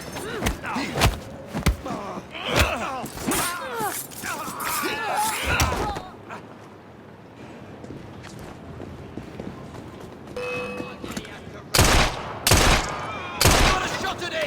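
Bursts of gunfire in Assassin's Creed Syndicate, loud sharp shots in quick clusters early on and again near the end, with a quieter stretch between and voices speaking over the action.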